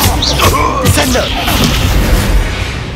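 Descendo spell effect in Hogwarts Legacy on Xbox Series S, a deep booming impact with crashing debris amid loud game combat, with voices over it.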